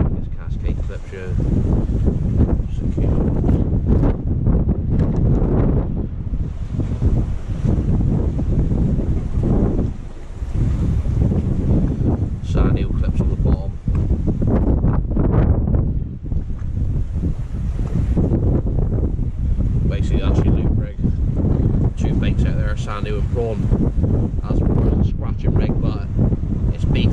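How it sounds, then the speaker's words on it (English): Strong wind buffets the microphone on a boat during small-eyed ray sea fishing, a loud continuous roar with gusts and rustling throughout the clip. "It's a bit blowy"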